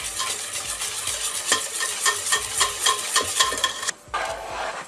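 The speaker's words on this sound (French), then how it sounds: "On mélange bien." Steady scraping and swishing as a mille-feuille pastry mixture is stirred in a mixing bowl, a repeating rhythmic motion, close and fairly loud, briefly pausing near the end.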